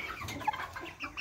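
Cornish Cross meat chickens, a flock of about 40, cluck and murmur together in a steady, soft chorus, fairly close, with no talking.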